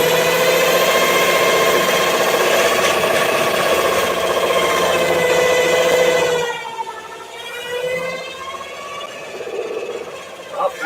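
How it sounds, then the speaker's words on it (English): A power drill polishing landscape rocks whines steadily at high pitch for several seconds, then winds down and sputters in short, uneven bursts. "And if that sounds like a drill, that's because it is."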